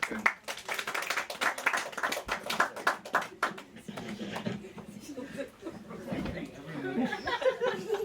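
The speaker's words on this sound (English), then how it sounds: "So please give him a big round of applause." An audience at a book launch breaks into applause, a busy patter of clapping mixed with chatter and light laughter that thins out partway through.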